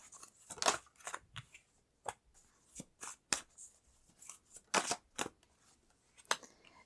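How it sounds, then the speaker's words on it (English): Tarot cards being pulled from a deck, soft close-up snaps, slides and flicks of card stock in irregular bursts, quiet with no voices. "I'm going to pull some more cards."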